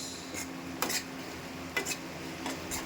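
Tomatoes stirred into aloo curry in a pot, with a few spaced scrapes and clinks of a spoon against the pot over a soft, steady background hiss.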